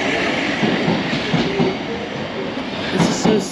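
A train moves through Blackfriars mainline station with a steady rolling rumble and faint wheel clatter, holding at a constant moderate level with a few brief squeals.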